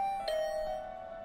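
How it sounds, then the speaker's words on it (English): A doorbell chimes once, a bright ringing tone that starts sharply and then slowly decays. It rings alone and sounds fairly close, with no voices over it. "I had just returned to my room when the doorbell rang."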